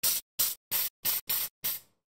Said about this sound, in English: apply the spray paint as a thin layer on the part